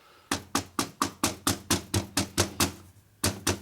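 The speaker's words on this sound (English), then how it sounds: "Tap it around. Now you can use your palm or you can use your hammer a little bit." A hammer taps a piston ring into a 1965 Harley-Davidson Panhead 74ci FLH engine during a rebuild, about a dozen sharp, evenly spaced knocks with a brief pause before the last two.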